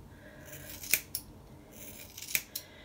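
Scissors snip through hair while a curtain fringe is trimmed, a few crisp close cuts in two quick pairs against a quiet room.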